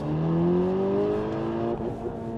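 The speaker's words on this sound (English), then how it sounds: "So the pops and the burbles, or the pops and bangs" A tuned 390 hp VW T-Roc 2.0 TSI R engine with Akrapovic exhaust revs and rises in pitch, then crackles with a few sharp exhaust pops as the throttle drops.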